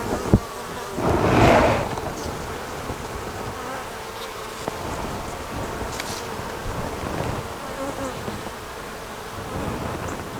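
Honeybees buzz around a hive frame during an inspection, a dense continuous drone with one louder swell as a bee passes close, plus light wind rustle on the microphone.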